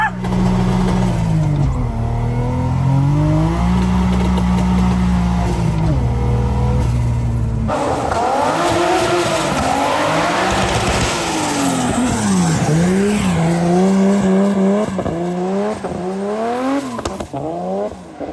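A 700 hp turbocharged BMW E36 drifts, its engine revving loud and close in rising and falling sweeps while the tires squeal and skid continuously.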